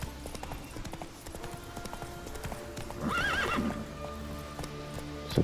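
A horse in The Witcher 3 video game clip-clops at a steady pace, then gives a clear, loud whinny partway through, set against soft background music.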